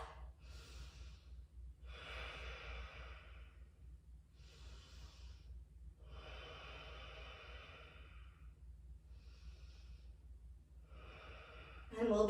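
During a Surya Namaskar yoga session, slow breathing starts in Tadasana. Several deep, audible inhales and exhales follow one another at an even pace, close and moderately loud, over a low steady hum.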